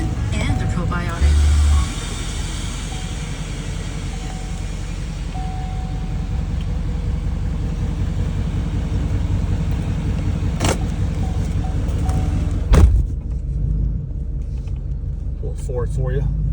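A lifted 2016 Duramax 2500 Z71 diesel pickup with full exhaust, tuned and deleted, idles after a cold start with a deep, steady rumble. A voice talks over it, and a sharp thump stands out near the end.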